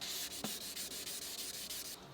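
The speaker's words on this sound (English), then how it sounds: "If it's still a little bit repellent, I will carry on sanding." Rhythmic hand sanding of a race hydrofoil during repair and servicing, about ten quick back-and-forth rasping strokes in a steady beat, close and fairly loud with no voices.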